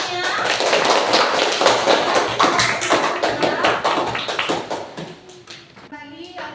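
Schoolchildren in a fifth-grade classroom clap together in a loud, brisk, patterned rhythm close by, with children's voices mixed in and the clapping thinning out near the end.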